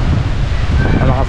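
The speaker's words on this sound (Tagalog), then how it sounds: "Malakas ng hangin." Strong wind rushes past at a resort battered by typhoon Uwan, a loud, continuous buffeting roar close to the microphone with gusty surges and no break.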